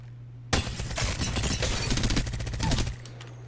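Close automatic gunfire in Apex Legends, one sustained burst of about two and a half seconds of rapid shots, begins abruptly and stops sharply, over a low steady hum.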